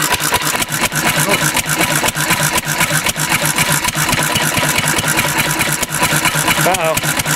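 A gasoline engine running on diesel fuel idles roughly and loudly, its fast, uneven chugging pulse steady throughout with slight stumbles near the end.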